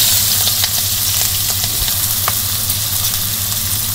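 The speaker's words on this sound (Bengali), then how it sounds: "পেঁয়াজ আর কাঁচামরিচ ভেজে নিই।" Close, loud, steady sizzling of onions and green chilies frying in oil, with occasional light stirring taps.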